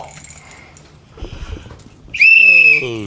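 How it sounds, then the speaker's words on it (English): A toy baby doll whistle gives a loud, bright, wavering shrill tone for about a second, following a stretch of background chatter and noise. "Little baby doll whistle. Alright. Blow the whistle."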